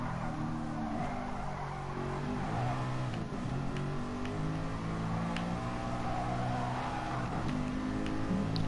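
A race car in GT Sport drives at speed with a continuous engine note that rises and falls through gear changes. Faint tire squeal comes through at moderate volume.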